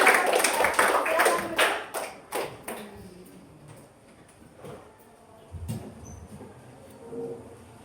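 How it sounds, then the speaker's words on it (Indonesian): A grade 9 Arabic class claps together in a rhythmic classroom clapping routine. A quick run of sharp, close hand claps comes first, then it thins to a few scattered taps and light voices. "Silakan tepuk tangan."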